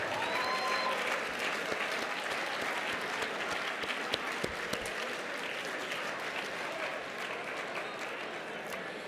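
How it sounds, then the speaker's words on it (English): A roomful of dinner guests at an environmental leadership dinner applauds steadily, a dense wash of clapping that holds at even strength for the full stretch, with a few louder individual claps standing out. "give them all a big round of applause"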